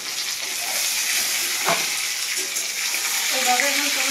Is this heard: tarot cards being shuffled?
no